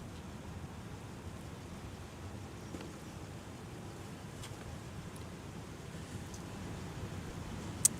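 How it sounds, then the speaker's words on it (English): Steady rain falls at Minneapolis–Saint Paul (MSP) airport, a continuous even hiss across the whole stretch with no voices, fairly faint and distant-sounding, with a brief sharp tick near the end. "as the rain continues to come down here at MSP Airport"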